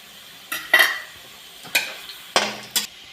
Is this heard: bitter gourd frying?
yes